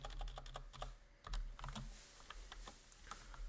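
Rapid keyboard typing while code for a Rust command-line MySQL app is entered, with crisp, irregular key clicks clustered in quick bursts and brief pauses.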